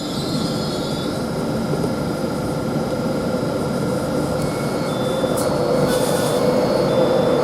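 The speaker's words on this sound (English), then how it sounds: "We get an incoming York train with the 801 215." A class 801 unit arrives at a station on a York service, a constant, loud rumbling roar that holds steady throughout with a faint high squeal near the end, no voices.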